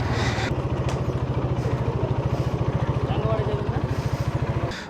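Motorcycle engine chugging in a fast, even putter during a relaxed ride near a ferry ghat, loud and close under someone talking.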